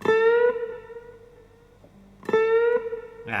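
A bright guitar note is bent up and rings out, drops away and goes quiet, then a second plucked note sounds and is cut off abruptly.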